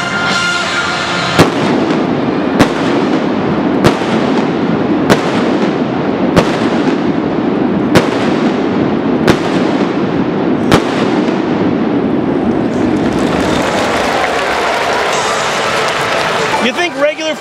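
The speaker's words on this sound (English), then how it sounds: "Try setting off fireworks inside a dome." Fireworks burst in a steady series of sharp booms about once a second inside a domed baseball stadium in Japan, over a loud, echoing crowd roar, the crowd swelling louder near the end.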